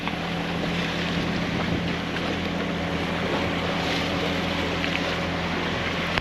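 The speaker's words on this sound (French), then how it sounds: "il y a le vent qui rentre pile poil dans la baie" Steady, loud wind roar buffeting the microphone near open water in a bay on Ibiza, a continuous rushing blow with no voices.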